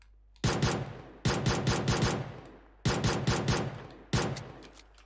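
Gunshots in PUBG Mobile, four quick bursts of loud close automatic fire, each a rapid string of sharp cracks with decaying echo, separated by brief pauses.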